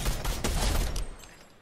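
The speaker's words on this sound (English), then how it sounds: "by the time we hear the gunfire, Drew's already eliminated them" A rapid burst of gunfire in Fortnite, several loud overlapping shots in quick succession that fade out into quiet.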